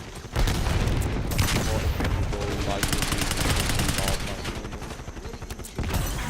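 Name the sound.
MG 21 machine gun firing in Call of Duty Black Ops video game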